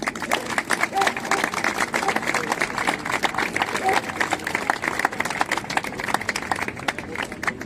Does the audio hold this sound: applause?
yes